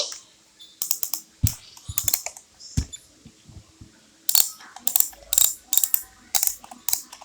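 Clicky mechanical keyboard typing in quick bursts of keystrokes separated by short pauses, close and crisp, with no voices.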